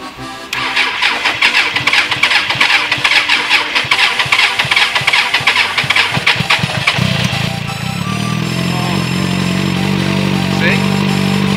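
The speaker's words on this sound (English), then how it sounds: "Beautiful sights and sounds of a Suzuki." A Suzuki motorcycle in a cold alpine setting cranks with a rapid, rhythmic starter chatter for several seconds. It then catches and settles into a steady, close idle, with voices talking over it.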